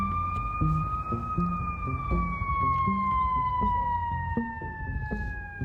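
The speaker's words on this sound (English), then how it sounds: "Now we have an ambulance with sirens on coming up here." A wailing ambulance siren sweeps steadily over rumbling Nashville traffic, loud and close, with its pitch drifting slowly downward.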